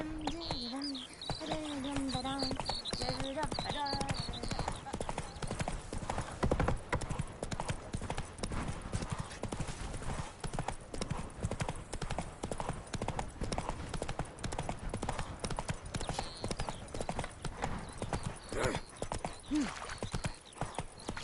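Horse galloping in The Witcher 3, steady rapid hoofbeats running throughout, with a brief whinny near the start and some faint ambient bird chirps.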